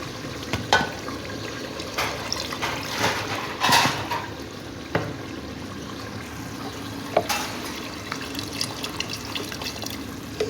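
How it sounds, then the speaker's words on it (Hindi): Water splashes and trickles into a pan of egg curry gravy in uneven bursts, with a few sharper clinks, close by and fairly steady throughout. "अब मैं इसमें पानी शामिल करूँगी।"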